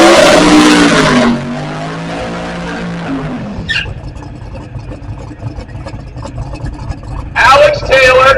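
A pair of six-second drag cars does burnouts in a water box at a drag-racing event, with a loud roar and tire squeal that fades to a rumbling idle. An announcer talks over the engines.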